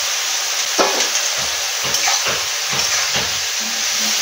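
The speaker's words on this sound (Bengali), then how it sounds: "আমি এবারে পালং শাকগুলো ভেজে রাখা দিয়ে দেবো। ভেজে রাখা চিংড়ি মাছগুলো দিয়ে দেবো।" Spinach and prawns fry together in a pan with a loud, continuous close-up sizzle, broken by stirring scrapes and soft thuds.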